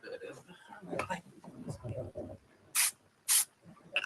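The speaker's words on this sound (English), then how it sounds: "I'll just use a little bit of the other spray" Hair spray is sprayed onto a lace wig in two short, sharp hissing bursts, close up, following a stretch of quiet talking.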